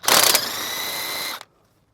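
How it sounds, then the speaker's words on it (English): A ratchet with a 16 mm socket on a 10-inch extension clicks rapidly while loosening steering box bolts on a 1999–2004 Ford F-150, a brief close burst of ratcheting that stops abruptly. "16 millimeter, and I have it on a 10-inch extension, and I'm going to go ahead and take them off."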